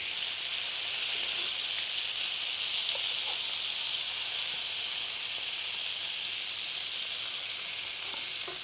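Herring fillets fry in butter with dill and parsley, giving a steady, close, continuous sizzle with small crackling pops throughout and no talking.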